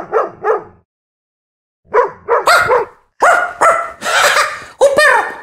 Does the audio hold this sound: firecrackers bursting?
no